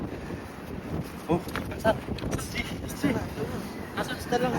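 Wind gusts across an outdoor microphone by the water near a boat, a loud rumbling buffet with fluctuating surges throughout, while people talk.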